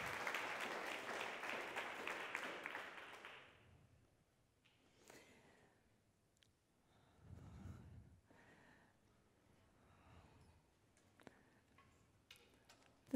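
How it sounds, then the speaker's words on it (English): A conference audience at the Ancestral Health Symposium 2014 claps for a few seconds in a brisk burst that cuts off quickly, leaving a hushed room with faint scattered ticks and shuffles. "everybody, please a round of applause"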